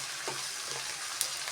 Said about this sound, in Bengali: এই পেঁয়াজগুলো আগে ভালো করে ভেজে নেব